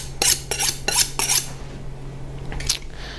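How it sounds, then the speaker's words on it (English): A knife is honed on a sharpening steel with four crisp metallic scraping strokes in a steady rhythm, then a pause and one more stroke, all close up and with no talking. "That is honing your knife."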